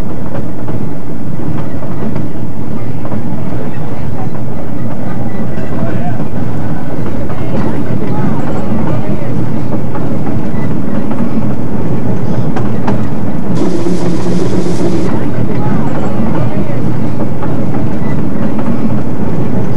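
A narrow gauge train in Colorado rumbles along steadily, with a broad rolling roar and faint clatter of wheels, loud and close throughout, with a brief hiss partway through.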